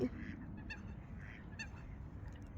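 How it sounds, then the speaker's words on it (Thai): Ducks on a bridge over a river quacking and honking nearby in short bursts over a low, rumbling background. "อ้าวเป็ดขึ้นมาทำไมบนสะพาน"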